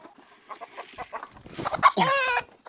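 Black Australorp chickens cluck in short bursts, building to a louder, drawn-out squawk near the end.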